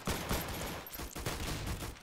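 Rapid pistol gunfire in a Roblox Arsenal match, several quick cracks fired in an uneven string over a dense game-sound bed, fairly quiet overall.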